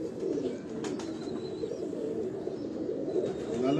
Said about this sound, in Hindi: ये हमारा सबसे फेवरेट कबूतर है।